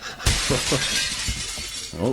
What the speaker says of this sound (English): If that's a window smashing, it might be let some air in there.